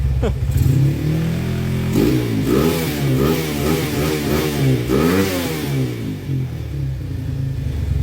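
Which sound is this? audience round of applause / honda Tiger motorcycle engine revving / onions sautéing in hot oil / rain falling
honda Tiger motorcycle engine revving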